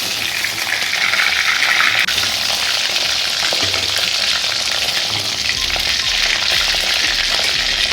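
Two dried red chilies fry in hot oil with a loud, steady, dense sizzle that stays close and continuous, with faint clinks of stirring.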